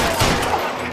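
Gunfire in the video game L.A. Noire, a dense loud burst of shots filling the whole moment, close and continuous with no clear gaps.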